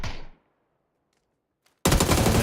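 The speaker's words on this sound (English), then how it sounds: "He just needs to get that M249 rolling pretty quick." An M249 machine gun in the video game PUBG fires in a loud, dense burst after a brief fade and near-silence, the rapid automatic shots starting abruptly near the end.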